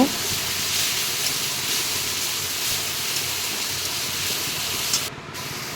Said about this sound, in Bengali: ঝিঙেগুলো একটু ভালো করে ভেজে নেব